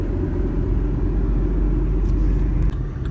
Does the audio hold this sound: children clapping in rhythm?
no